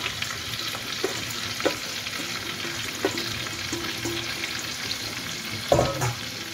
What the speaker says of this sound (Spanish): Y añadimos los puerros cortados en pequeñitos